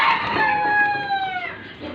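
A desi hen lets out a drawn-out, descending squawking call at close range. It fades after about a second and a half with no speech over it.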